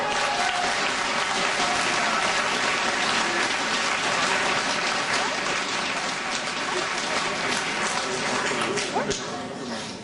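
Dense, loud applause fills a hall during a French municipal campaign speech in Asnières, a continuous rain-like roar of many hands that holds steady throughout and fades slightly at the end.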